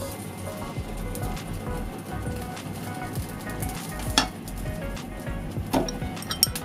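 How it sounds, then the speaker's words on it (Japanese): Food fries in a pan over low heat, a soft continuous sizzle with occasional clinks and scrapes of a utensil against the pan, moderately quiet. "さらにじっくり弱火で焼いていきます。"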